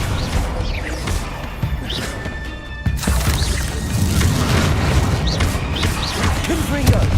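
Loud, continuous combat din of spell blasts from Confringo and Depulso in Hogwarts Legacy, with repeated crashing impacts and booms across the whole stretch, a brief dip near the middle, then heavier blasts mixed with shouted voices.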